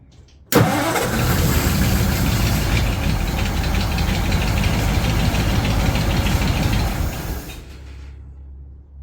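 A 1936 Ford flathead V8 with an 8BA engine, long stored in a barn, cranks and catches suddenly, then runs loud and rough with a rapid pulsing rhythm for several seconds before cutting off.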